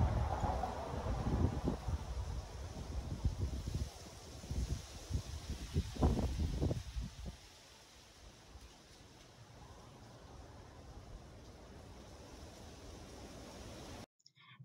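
Wind buffets an outdoor robot test, loud gusty rumbling and blustery bursts over the first half, then settling into a steadier, quieter rush before cutting off.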